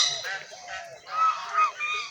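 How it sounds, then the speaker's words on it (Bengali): Geese honking at a garden estate in Murshidabad, several nasal, bugling calls in quick, uneven succession, fairly close and moderately loud, with some overlapping voices. "আর কত রাজহাঁস, আর কি সুন্দর ডাকছে"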